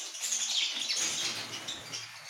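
Red-eyed lovebirds in an aviary give a dense, continuous chatter of high chirps and tweets, mixed with soft wing flapping, fairly close and busy throughout.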